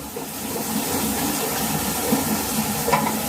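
Water rushes steadily through a newly replaced bidet hose in a hotel bathroom, a loud, continuous hiss with a few small splashes and no talking.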